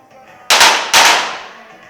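Two sharp pistol shots about half a second apart at a women's 25m pistol shooting event, each a loud crack with a short ringing decay, and no talk.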